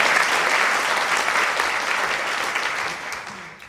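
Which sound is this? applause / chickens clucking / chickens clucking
applause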